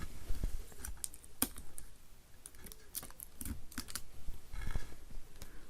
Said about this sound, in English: Okay, let's use our piece of tape.